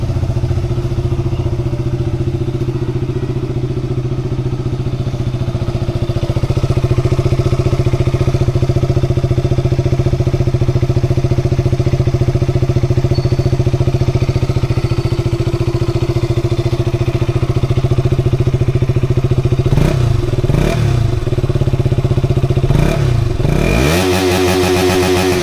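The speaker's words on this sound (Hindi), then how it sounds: "आप लोग सुन लिए KTM RC 200 का साउंड कैसा है" A KTM RC 200 BS6 motorcycle engine idles steadily and loud up close, with a few sharp throttle revs blipping near the end.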